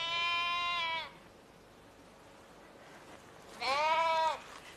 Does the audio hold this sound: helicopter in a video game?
no